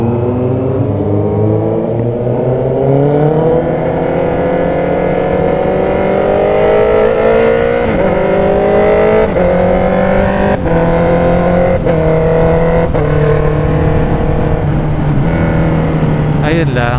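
A Honda CB650R motorcycle engine revs hard toward 6,000 RPM, loud and close, its pitch climbing in steps through upshifts with brief dips between gears.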